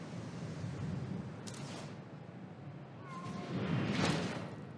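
A cat in the video game Spider-Man: Miles Morales gives a couple of faint, brief meows over a soft background hum.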